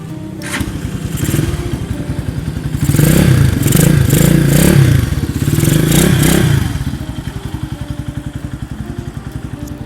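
A 2019 GPX Legend 150 motorcycle with a stock engine and tuned carburetor idles with a steady, loud chugging, revs up for a few seconds in the middle, then settles back to idle.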